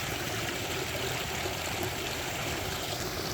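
Water from a pumped pond waterfall pours out in a steady, even rush of splashing and hissing that stays constant and close, with no voices over it.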